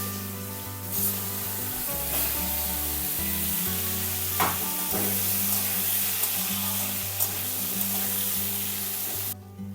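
Potatoes and arum frying in oil in a pan, a steady close sizzle with occasional stirring scrapes running throughout, under a low background hum.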